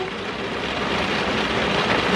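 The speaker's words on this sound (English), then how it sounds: "please excuse the rain. Hopefully it's not too hard," A dense, even hiss of rain fills the whole moment, constant and fairly loud, like heavy rainfall drumming nearby.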